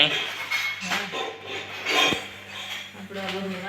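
A spoon stirs and scrapes bhel of puffed rice, sev and chutney in a bowl, giving steady rubbing, rasping scrapes with occasional light clinks, close up, while people talk over it.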